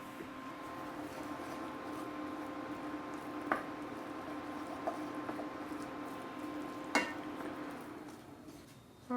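Soft, wet stirring of thawing roux being melted into onions in a pot for Cajun meatball stew, with a low steady simmer and a few sharp spoon taps against the pot.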